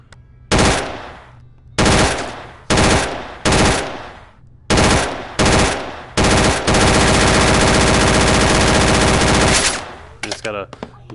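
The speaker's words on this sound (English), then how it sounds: "now the PPSH, German rifle, also known as the fun gun" A PPSh submachine gun with a drum magazine fires in the VR shooting game Gun Club VR: six short, loud bursts of automatic fire, then one long sustained burst of about three seconds, followed by a few scattered clicks.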